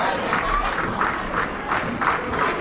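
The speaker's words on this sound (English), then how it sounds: "I hear clapping" Spectators at a pro bowling tournament clap in scattered bursts, moderately distant and mixed with crowd murmur and hall ambience.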